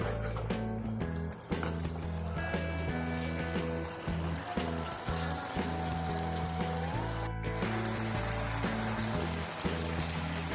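Masala for a bhindi dish fries in a pan after a splash of water, giving a continuous dense sizzle and crackle that stays loud and steady, with a tonal background underneath.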